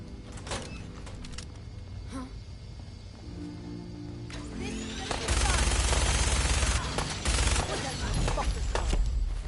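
Gunfire in Fallout 4 rattles off in rapid bursts, growing into a loud, dense fusillade in the second half, mixed with mechanical clanks and other game sounds.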